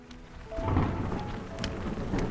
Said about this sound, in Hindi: हल्की हल्की बारिश हो रही थी।